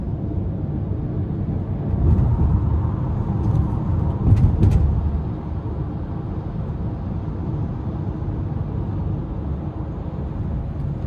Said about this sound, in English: But ride quality on the interstate, pretty good. Just floats down the road.